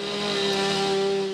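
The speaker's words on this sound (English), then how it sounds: "The chainsaws are on." Chainsaws drone steadily during storm-damage cleanup in Riverdale, a loud continuous buzzing engine whine that runs without a break through the short moment.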